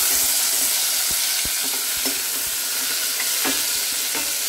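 Cumin seeds sizzle in hot oil for a dal tempering, with a loud, steady crackle and hiss and scattered sharp pops and stirring knocks throughout.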